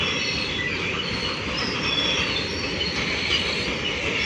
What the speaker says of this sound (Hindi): एटा मालवाही ट्रेन टा जाउछि सेइति पई टिके आवाज दउछि